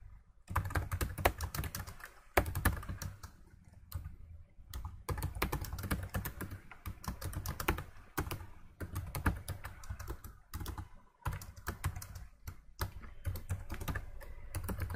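Code is typed on a computer keyboard in a steady run of close, clicking keystrokes that continues with short pauses and no talking.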